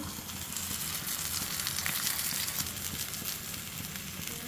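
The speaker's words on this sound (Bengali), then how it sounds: "যেহেতু কম তেল দিয়েছি, একটু ঘুরিয়ে ঘুরিয়ে ভেজে নেব" Food shallow-frying in a little oil over a medium flame, a constant close sizzle and crackle that runs unbroken throughout with no talking.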